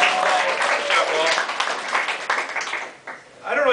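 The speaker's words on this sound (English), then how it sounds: "Let's all give Paul a round of applause" An audience applauds Paul, a dense burst of clapping that holds steady and then thins out toward the end.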